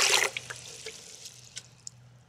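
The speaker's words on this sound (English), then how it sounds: "So you put your willow water in a bucket like this." Willow water is poured into a bucket: a brief splashy gush up front, then scattered drips and small plops landing one by one at close range over a faint low hum.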